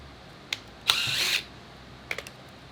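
A short whirring burst from a small power drill boring into wood, about half a second long, framed by a few sharp clicks and taps.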